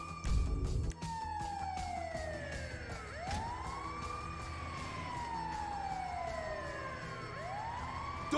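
A wailing ambulance siren in Grand Theft Auto V sweeps up and down in long repeated cycles, loud and continuous over a low engine rumble, with a thump near the start.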